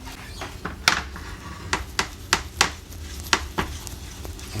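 Butter and flour stirred together in a pan with a utensil for a Cajun shrimp and sausage dish, giving a series of light, irregular scraping and tapping clinks against the metal, fairly quiet with no talking.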